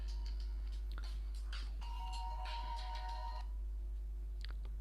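Electronic phone ringtone chiming from an incoming call during a live class, a repeating melodic pattern over a constant low electrical hum, then stopping partway through.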